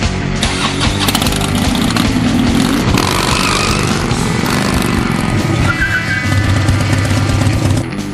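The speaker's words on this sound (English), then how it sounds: "Rev up your engine." A gasoline car engine revs hard and loud, a dense roaring drone that holds steady, then eases slightly before settling into a lower hum near the end.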